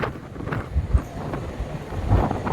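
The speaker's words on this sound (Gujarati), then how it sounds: "આ દરિયાનો પવન આવે ને એમાં અત્યારે ઝરમર ચાલુ છે વરસાદની" Blustery sea wind buffets the microphone at the coast during light drizzle, a steady broadband rush with low thumping gusts, loud and close, with no voices.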